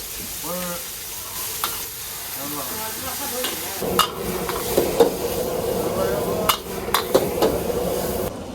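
Noodles sizzle as they are stir-fried in a pan, with a steady frying hiss and repeated sharp clanks of a utensil against the pan, loud and close, while a voice speaks at the start.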